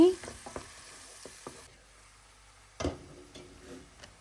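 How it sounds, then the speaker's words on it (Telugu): Onion-tomato paste frying in oil in a pan for restaurant-style palak paneer, heard as close sizzling with spatula stirring scrapes and taps, quieter mid-clip and then a louder burst of stirring near the end. "ఇందులోనే ఆనియన్ టమాటో పేస్ట్ వేసి బాగా ఫ్రై చేసుకుందాం"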